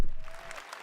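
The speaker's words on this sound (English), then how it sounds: "Let's give them all a round of applause." Audience applause at an EA E3 press conference, a brief burst of dense clapping from a large crowd fading quickly.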